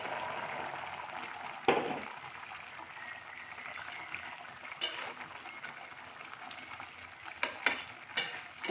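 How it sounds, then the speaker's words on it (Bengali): Fried tangra fish go into a boiling gravy in a village kitchen, giving a quiet steady sizzle and bubbling, with a few sharp scrapes and clatters from stirring. "এই যে ঝোলটা আমার ফুটে উঠেছে, এবার আমি ভাজা মাছগুলোকে দিয়ে দিচ্ছি।"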